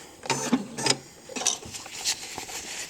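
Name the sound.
sewing machine stitching PUL fabric for a diaper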